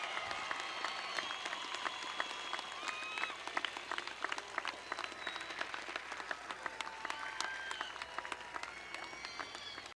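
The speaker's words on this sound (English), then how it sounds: "Please join me in a round of applause." A graduation audience at Chambersburg Area Senior High School applauds seniors entering the armed forces, a steady wash of many hands clapping for the whole stretch with scattered cheers and whistles above it.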